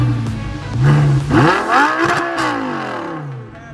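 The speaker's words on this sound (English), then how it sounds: "it's gonna be a cold start in the V10 out here." A V10 engine in an Audi R8 with a six-speed manual barks to life on a cold start, flaring up loudly with a rising rev, then settling into a rough, throaty idle close by.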